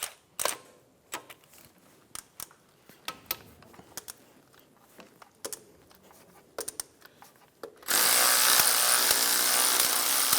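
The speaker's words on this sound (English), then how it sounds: "remove the bolt for the alternator." A ratchet on a 14mm socket backs out an alternator bolt on a 2003-2007 Infiniti G35, giving sharp irregular clicks and metallic taps. A loud, steady, hissing whir then takes over for the last couple of seconds.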